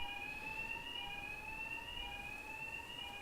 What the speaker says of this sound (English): You can hear that siren is got an envelope on it